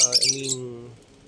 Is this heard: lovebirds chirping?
yes